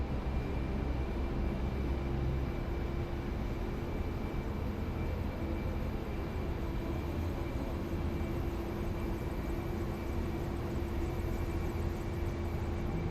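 A loud, unbroken engine drone from an aircraft coming in to land on a runway in a war video game, holding steady throughout with no other sounds.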